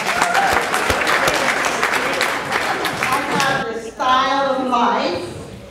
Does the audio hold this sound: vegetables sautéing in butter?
no